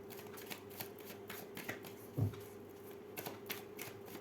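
Tarot cards being shuffled and drawn by hand, a soft series of quick riffling flicks and taps with one firmer thump, close and quiet with no voice over it.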